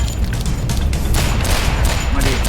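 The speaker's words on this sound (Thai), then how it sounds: "มันโยนระเบิดเลยนะไม้ถอยมา" Loud, chaotic gunfire and a grenade explosion in a Roblox Westbound battle, with a deep boom mixed into the dense burst of shooting.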